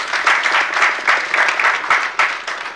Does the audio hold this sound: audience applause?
yes